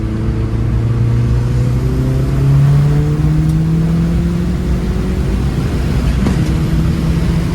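Mk4 Jetta fitted with a bigger turbo pulling hard in third gear, a loud, steady engine drone rising in pitch throughout as the car accelerates, heard from inside.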